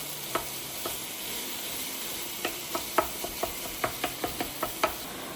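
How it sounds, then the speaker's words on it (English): Ground chuck (80/20) browning with tomato paste in a pan: a steady, faint sizzle with scattered scraping and stirring clicks as the meat is broken up, quiet and close, no voices. "all I've done is start to brown the meat with the tomato paste"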